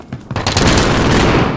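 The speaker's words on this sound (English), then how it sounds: "Enemy sentry gun active." An enemy sentry gun in the Call of Duty Warzone video game fires a loud, close, rapid burst of automatic gunfire that starts with a few shots and settles into a sustained rattle.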